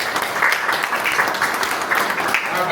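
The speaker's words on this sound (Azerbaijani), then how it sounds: "Rəhim müəllim, alqışlayın." Sustained audience applause at a jubilee celebration in Azerbaijan, a dense steady patter of many hands clapping indoors, fairly close and unbroken.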